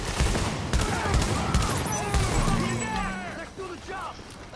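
Rapid gunfire crackles in a video game battle as supplies come under attack, loud bursts mixed with a shouted voice and game sounds, fading slightly toward the end.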